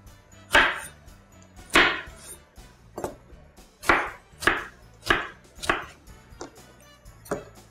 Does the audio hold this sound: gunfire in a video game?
no